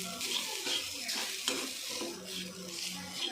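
Grated coconut roasts in a pan for a fish curry while a spoon scrapes and stirs it repeatedly, a dry sizzle with rhythmic scraping strokes heard up close and on its own.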